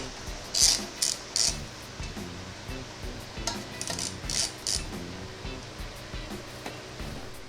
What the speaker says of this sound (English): I'm gonna have to twist that with some pliers.